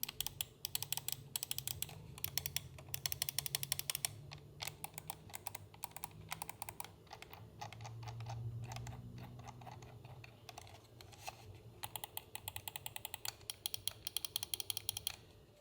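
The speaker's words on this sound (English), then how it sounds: "And now here's a button sound check." Cooler Master MM731 mouse buttons with optical switches, clicked in quick repeated bursts of sharp, hollow, close-up clicks separated by brief pauses over a faint steady hum.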